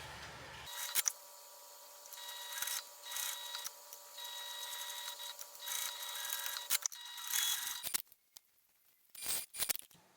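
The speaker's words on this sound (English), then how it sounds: "I'm going to go ahead and sew these now." A sewing machine stitches fabric pieces of a bag together, a steady mechanical whir running for several seconds before stopping, followed by a few short clicks and rustles of handling.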